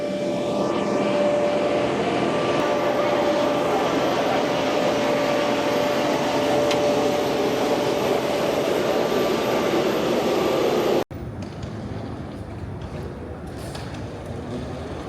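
A loud, steady roar of airplane engines drones on close by on an airport tarmac at night, then cuts abruptly to a slightly quieter, rougher engine rumble.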